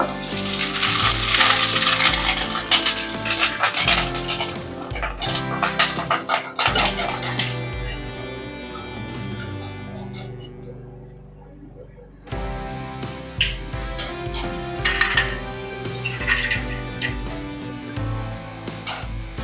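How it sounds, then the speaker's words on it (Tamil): Okra (lady's finger) vadam fries in hot coconut oil with a crackling, bubbling sizzle. Bursts of frying come and go, with a voice talking over them. "தேங்காய் எண்ணெய் காஞ்சிட்டு இருக்குதுங்க, படகு பொரிக்க போகிறோம்."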